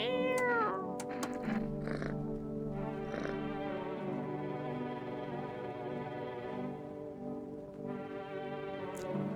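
A cat in a video game gives a series of clear, close meows, some drawn out and rising, with quieter purring sounds between them.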